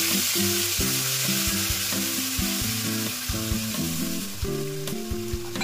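Spice paste frying in a pan for a home-cooked dish, giving a steady, dense sizzle that runs the whole time, with background music playing over it.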